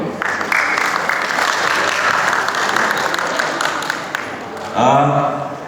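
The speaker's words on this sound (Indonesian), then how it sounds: "Tepuk tangan dulu dong." Audience applause follows a theatre performance review, a steady wash of clapping for several seconds that thins out before a voice starts speaking at the end.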